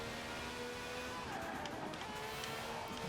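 A BMW race car in a video game laps the Goliath track, its engine note steady and loud and then dropping as it brakes, with a faint tire squeal near the end.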